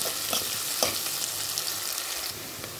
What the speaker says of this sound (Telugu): ఇవన్నీ ఈ కర్రీకి ఉల్లిపాయలు అంత చక్కగా వేగితే గోల్డెన్ కలర్ వస్తేనే అంత టేస్టీగా ఉంటుంది